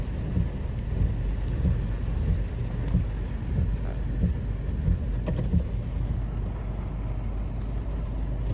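Heavy steady rain patters and rumbles with low, muffled thunder rolling underneath, heard from indoors with the window closed, without any talking.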